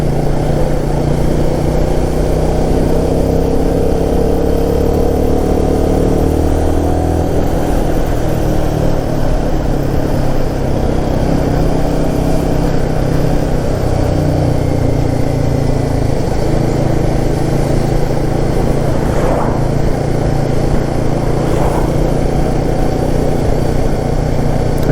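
A Royal Enfield Guerrilla 450 motorcycle engine drones loud and steady while riding, with a constant mid-pitched hum and wind rumble and no break throughout.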